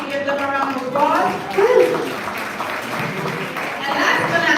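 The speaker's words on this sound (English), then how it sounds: "Can you give them a round of applause?" Crowd applause at an awards gala, a broad ongoing clapping wash with a voice speaking over it early and cheering mixed in.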